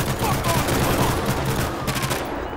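Gunfire in the video game GTA 5, a dense burst of rapid shots over a loud, steady roar of game noise, with no talk over it.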